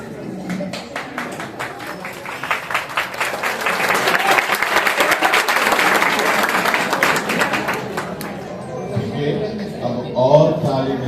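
Audience applause at a church gathering in Kochi, a dense burst of clapping that builds and holds for several seconds, then thins out into scattered claps with voices rising underneath.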